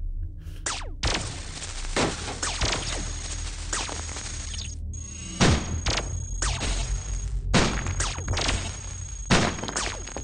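Weapons fire in the Cogmind video game in a string of sharp synthetic blasts and thuds, loud and close, with several bursts and short gaps between them; no speech.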